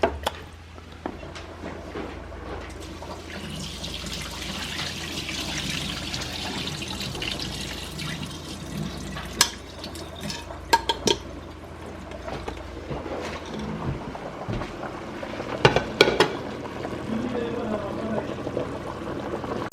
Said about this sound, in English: I'm just gonna let it soak because I want all the starch to be washed away